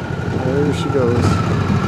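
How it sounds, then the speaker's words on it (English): A 1974 Harley-Davidson FLH motorcycle with original paint runs nearby, a steady low engine drone with a slight rise in revs, while someone speaks over it. "Good running motorcycle."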